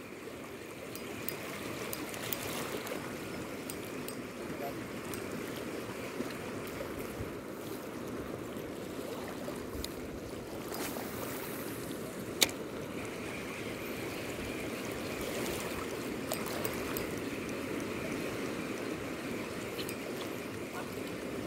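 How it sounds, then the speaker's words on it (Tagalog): Fast-flowing water current rushing past a small boat while fishing with a DIY rattler sabiki rig, a steady, faint wash of moving water throughout, with no talking. "Ang bilis tumakas ng tubig."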